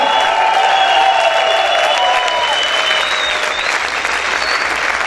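Loud, sustained applause and shouting from a church congregation praising God, with cheering voices rising over the clapping throughout.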